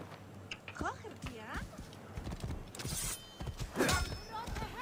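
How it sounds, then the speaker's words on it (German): Horse hooves clip-clop in the video game Assassin's Creed Origins, irregular thuds with creaks and a brief whinny, heard close alongside game sounds and a voice talking. "Pferdchen!"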